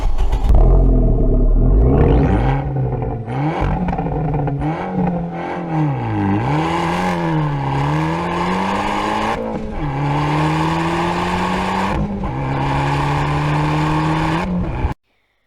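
A hot Abarth hatchback engine revs hard and loud nearby, its pitch climbing, dipping and surging through repeated throttle blips and gear changes for about fifteen seconds before it cuts off abruptly, with no voices.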